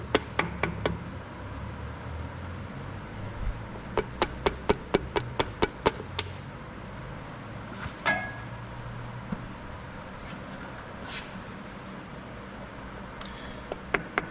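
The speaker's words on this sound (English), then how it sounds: "Sometimes on the thicker cork, it is easier to mark it and cut it out later, but it just takes a few more taps" Sharp hammer taps cutting a thick cork gasket by hand during maintenance on a Caterpillar D2 crawler tractor, a quick run of about a dozen close, crisp knocks followed by a few scattered single taps.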